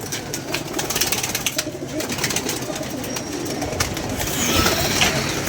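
Pigeons cooing close by in a loft or market setting, repeated soft coos over a busy background rumble, no talk.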